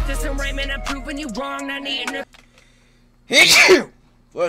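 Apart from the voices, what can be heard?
sneeze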